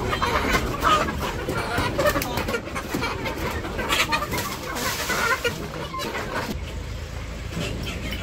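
Village chickens cluck and squawk in a busy flock as they run in close to be fed, overlapping calls near the listener, with someone talking in the background.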